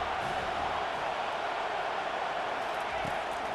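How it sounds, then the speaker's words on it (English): Broad, steady stadium crowd roar in EA Sports College Football 25, a dense continuous wash of cheering fans rising on a defensive third down, loud and sustained with no distinct voices standing out. "Decibels rising as the crowd gets behind this defense on 3rd down."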